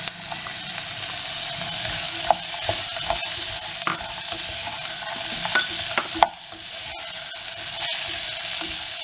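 Vegetables and onion for wheat upma fry and sizzle steadily in a pan, with frequent spoon stirs and scrapes knocking against the metal over an even frying hiss, no talk.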